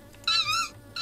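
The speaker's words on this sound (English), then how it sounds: "Oh, it's a cat." A cat from a Minecraft Bedrock New Zealand Natives animal addon gives one drawn-out, wavering meow near the middle of the second, with a short second cry starting at the end, close and clear over a quiet game background.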